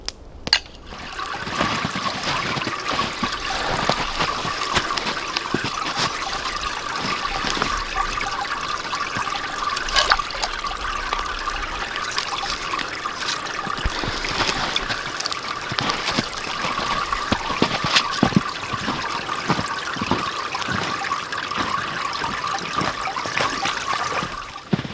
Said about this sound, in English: we got some nice fresh mountain stream water